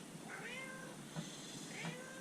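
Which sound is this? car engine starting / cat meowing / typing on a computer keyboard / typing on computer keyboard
cat meowing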